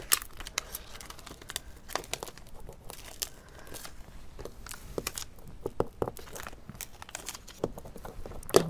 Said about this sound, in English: I'm gonna go get a newer piece of transfer tape